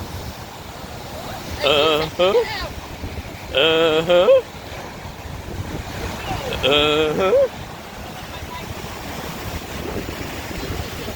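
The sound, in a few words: waves breaking on Lake Michigan beach, Portage, Indiana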